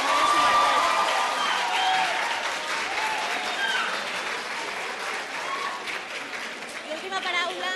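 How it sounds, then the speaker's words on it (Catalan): Studio audience applauding on a Catalan word game show, a sustained, fairly loud wash of clapping lasting several seconds with faint voices mixed in. "Ara, aplaudiments."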